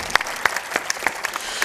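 An audience bursts into applause, a dense wash of hand clapping with sharp individual claps standing out, loud and close, with no talk over it.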